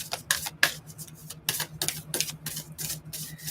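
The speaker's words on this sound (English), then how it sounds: "I don't know why I started shuffling." A deck of oracle cards is shuffled by hand in quick, crisp riffles and slaps, a run of sharp flutters close up over a low steady hum.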